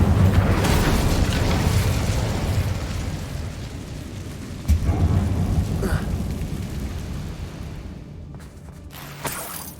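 A fire spell cast inside a mine tunnel in Hogwarts Legacy erupts as a loud, sustained roaring burst of flame, with sharper pops and whooshes flaring partway through and near the end.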